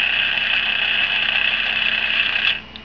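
A prototype dual focus motor running at slow speed on its controller gives a steady, close, high-pitched electric whine that holds level for over two seconds, then cuts off with a small click.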